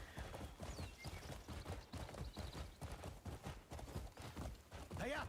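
Rhythmic hoofbeats clip-clop steadily under continuous talking, with a horse whinny near the end, from the video game Crimson Desert.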